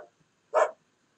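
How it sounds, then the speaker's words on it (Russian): A single dog bark played as a sound clue in a children's animal-sound guessing game, one short clear yelp standing alone in near silence. "Он догадался, что это собачка."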